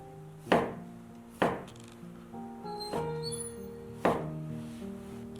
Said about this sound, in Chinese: 把橙肉切成小块